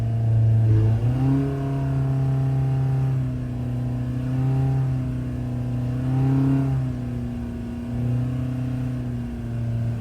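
Engine on a dyno, revving under heavy load with strong steady harmonic drone, rising and dipping in pitch several times as revs climb and hold, loud and close with no talk.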